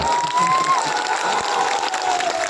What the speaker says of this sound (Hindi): ताली जरा जोर से बजाओ ना।